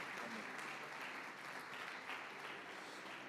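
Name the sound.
church congregation applauding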